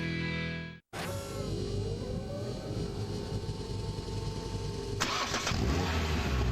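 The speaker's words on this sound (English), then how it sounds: "This is the sound of a car engine." A car engine cranks and turns over after a brief silence, then settles into a steady close idle, with a slight change in pitch near the end.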